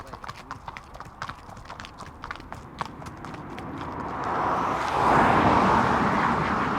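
Racehorses' hooves clip-clop in a steady rhythm on a training run, with wind or a rising rushing noise swelling over the later part.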